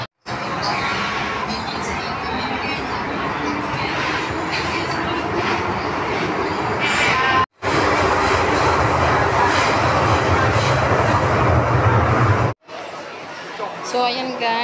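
Riding a train in Hong Kong: a steady, loud rumble of the moving carriage with faint rail clatter. The noise cuts out briefly twice, then resumes.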